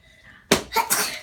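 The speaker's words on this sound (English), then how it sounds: "Here comes the sneeze, I think." A five-year-old boy at a check-up sneezes once, a sudden sharp burst followed by a second breathy gust, with faint steady tones from a hearing test sounding just before.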